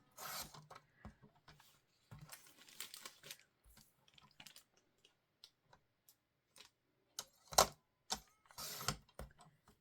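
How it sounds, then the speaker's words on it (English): Scissors snipping a small chunk of paper for a mini journal envelope pocket, a series of soft, close ticks and crinkles in uneven bursts, quiet and alone. "I'm just going to take a little chunk. But I'm going to cut right to the inside of it."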